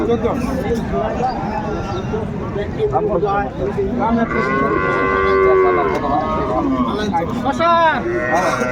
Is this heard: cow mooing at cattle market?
yes